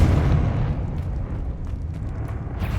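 A Confringo explosive spell blast in the video game Hogwarts Legacy, a loud, close, rumbling boom that rolls and decays over a few seconds with faint scattered debris.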